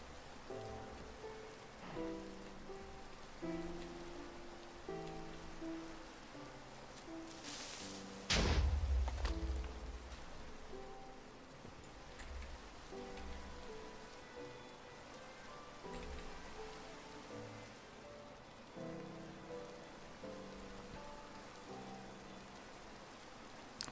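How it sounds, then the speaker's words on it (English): Steady rain falls and patters throughout in the video game Minecraft, with one heavier thump partway through. "I'd love to get out of this rain."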